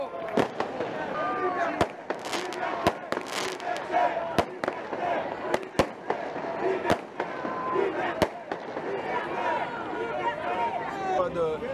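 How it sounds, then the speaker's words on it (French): Fireworks at a torchlight march in Marseille, a string of sharp cracks and bangs at irregular intervals over the murmur and calls of a crowd, with people talking throughout. "Là on va s'occuper du feu d'artifice."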